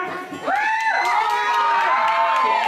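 Audience at a talent show cheering and shouting loudly and close by while a singer's voice rises over the crowd, with whoops and applause mixed into the continuous roar.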